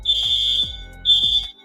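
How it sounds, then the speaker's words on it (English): A building fire alarm goes off with two loud, shrill, high-pitched beeps separated by a short gap, sounding near and alone with no talking. "fire alarm was going off there for a second."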